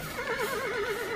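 A single horse neighs clearly and loudly, a wavering whinny held for about a second, used as a horse-carriage sound effect in a spoken story set on a rainy night.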